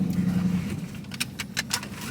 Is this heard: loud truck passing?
yes